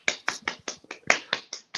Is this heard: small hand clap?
yes